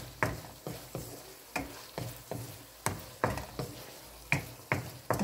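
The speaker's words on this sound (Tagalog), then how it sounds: "So, i-mix muna natin ang saglit." Mung bean sprouts being stirred in a pan as they saute, with repeated scraping strokes about twice a second over a faint steady sizzle, close and moderately quiet.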